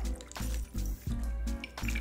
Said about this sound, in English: smells beautiful and just pour it over ice